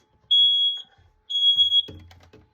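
A smoke detector alarm sounds two long, loud, high-pitched tones, each lasting about half a second with a short gap between, followed by some handling clatter and rustling close to the mic.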